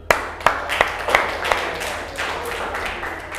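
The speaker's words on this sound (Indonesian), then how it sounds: "Oke, tepuk tangan dulu." A classroom group claps, a few loud, separate hand claps at first that quickly blend into a brief round of applause from many students.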